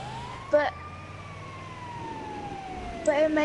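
A wailing siren slowly rising and falling in pitch, with brief bursts of other noise at the start and end.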